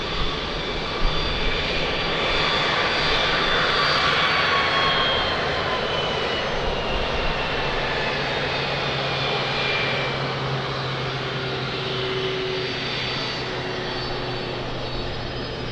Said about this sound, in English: expect 2 aircraft to cross the runway before your departure